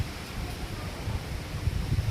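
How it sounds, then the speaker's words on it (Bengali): Strong monsoon wind gusting through coconut palms and trees on a rainy Andaman night, a steady low roar with rustling surges, close and continuous with no voices. "দুটি নারকেল গাছ প্রবল বাতাসের তাড়নায় নৃত্য করে যাচ্ছে।"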